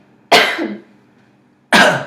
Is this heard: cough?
yes